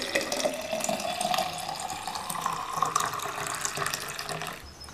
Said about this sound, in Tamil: 2வது ரெடி பண்ண மோரை இந்த பாட்டிலில் சேர்த்துக்கலாம்.